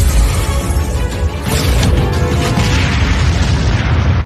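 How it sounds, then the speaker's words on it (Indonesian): A loud, sustained explosion from an animated fantasy battle series, a dense roaring boom that fills the whole span before cutting off abruptly. "Sehingga terjadilah sebuah ledakan, menandakan betapa kuatnya pengaruh yang ditimbulkan Yunsan."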